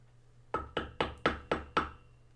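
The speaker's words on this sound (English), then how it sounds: "So you walk up to his door and knock on the door." Six firm knocks on a door, evenly spaced and close, each a sharp thud with a short decay, with no other sound in the pauses.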